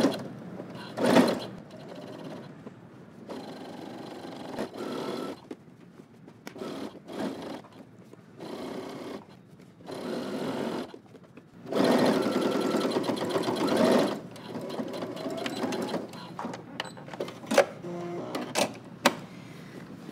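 Home sewing machine stitching in the ditch along a pants waistband seam, running in several separate bursts of steady mechanical whirring with pauses between, close and fairly loud.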